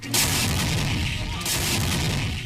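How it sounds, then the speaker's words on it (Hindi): An M777 ultra light howitzer fires at the Pokhran field firing range in India, giving two loud, heavy booming blasts about a second and a half apart, each followed by a long rumbling roar. "अमेरिका से आई हॉवित्जर M777 तोप को अब पोखरण फील्ड फायरिंग रेंज में टेस्ट किया जा रहा है"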